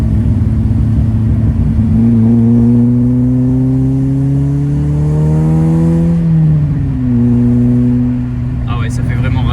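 A heavily modified Peugeot 106 XSi engine idles, then climbs in a smooth rev and holds high before falling back to a steady idle, loud and close, with a brief sharper noise at the end.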